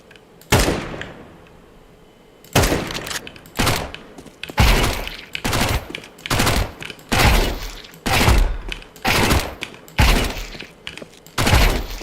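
Bursts of Mac-10 gunfire in a video game, about nine loud, rapid volleys spaced roughly a second apart, each a dense broadband rattle with a thumping low end, heard close with no talking.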